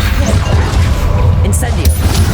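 A fire spell is cast in Hogwarts Legacy on PC, a roaring whoosh and rumble of flames with heavy low booms and a couple of sharp bright cracks, while a voice talks over the combat.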